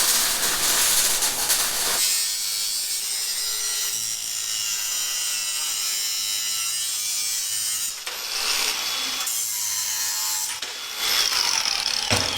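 Material being cut for an oversized tow-truck wrecker build, a steady continuous cutting roar lasting most of the span, close and loud, with a short pause near the end before resuming.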